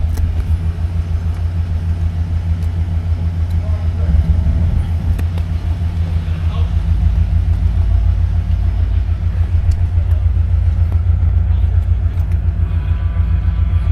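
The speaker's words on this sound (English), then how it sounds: "Motor sounds nice and smooth." A 1967 Cadillac DeVille's engine idles steadily, a deep, smooth low rumble that holds constant throughout with no talk over it.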